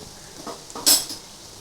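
A utensil scrapes and clinks against a pan while ground spice mix is stirred into homemade mixed fried rice, a few soft scrapes followed by one sharper metallic clink, close and brief.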